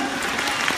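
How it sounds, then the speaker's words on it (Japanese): A brief burst of audience clapping at a Universal Studios Japan show, dense and even, lasting under a second. "OK、素晴らしい、拍手。"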